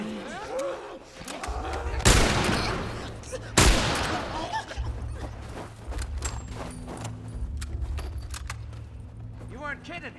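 Two sharp gunshots ring out close and loud in The Last of Us, followed by scattered clicks and clatter under voices talking.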